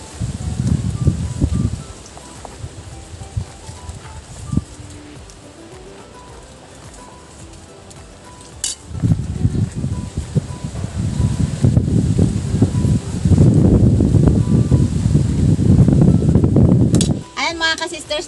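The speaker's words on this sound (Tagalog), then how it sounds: "napakalakas ang hangin kaya kailangan ko mag sombrero" Strong wind gusts outdoors in a coconut-growing setting, coming in broad rumbling bursts at the start and then sustained through the last half, with quieter stretches between.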